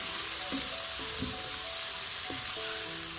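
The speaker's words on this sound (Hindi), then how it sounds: "अब ये मसाले हम अच्छी तरह भून लेंगे।" Whole cumin and other spices fry in a pan with a loud, steady close sizzle, and occasional light scraping knocks from stirring.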